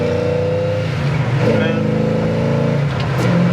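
A 1969 Chevelle's engine roars loudly as the car accelerates hard at speed in a high gear, a strong steady drone that surges near the end, with people talking over it.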